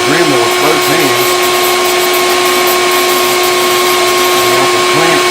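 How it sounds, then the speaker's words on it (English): A Dremel rotary tool grinding down a Fender Stratocaster guitar neck during a truss rod repair, a loud steady high whine running continuously with someone speaking over it. "I wish I could hold the Dremel with both hands."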